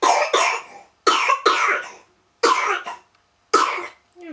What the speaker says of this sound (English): Like I said, bad cough.